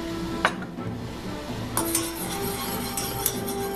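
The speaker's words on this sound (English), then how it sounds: "Keep mixing until this thing becomes nice, thick, and syrupy." Cornstarch and lemon mixture being stirred in a pot on the stove, with a soft bubbling simmer under occasional sharp utensil clinks against the pot, close and fairly quiet, no talk.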